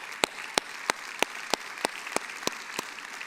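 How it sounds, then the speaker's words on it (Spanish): A church congregation applauds during a Spanish-language worship service, with sharp, evenly spaced claps landing about three times a second over a dense wash of applause. "dale un fuerte aplauso al Señor"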